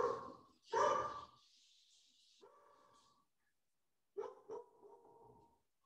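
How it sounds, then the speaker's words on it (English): A dog barks a few times at a distance, two louder barks first, then a short pause and a couple of softer, yippier barks. "Sorry if y'all can hear my dog barking."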